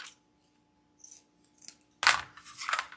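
Scissors cutting ribbon for a rustic farmhouse wreath, a few faint snips followed by a louder, sharper cut and rustle near the end.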